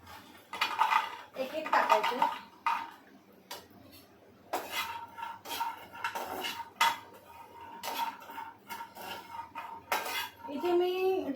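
Dry fruits dry-roasting in a pan without ghee, with repeated bursts of clattering and scraping as they are stirred, metal clinks and pauses between, under occasional faint talk.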